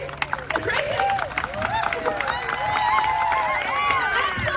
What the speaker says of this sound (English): Keep applause going because our sea lion celebration will be starting very soon